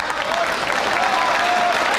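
A crowd applauds steadily after Efren Reyes finishes a run at a 1999 world pool championship match against Francisco Bustamante, a dense, continuous wash of clapping that stays loud throughout with no voices standing out.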